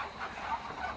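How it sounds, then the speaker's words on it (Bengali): Several Chinese ducks quack and honk together at a duck farm in a brief, raspy chorus, moderately close, with no talking. "এই যে হাঁসের শব্দটা অল্প অবশ্যই শুনতেছেন"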